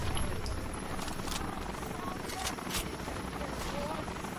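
Helicopter in the video game Rainbow Six: Vegas, a steady loud rotor drone filling the whole clip beneath overlapping gunfire and game noise, with voices talking over it.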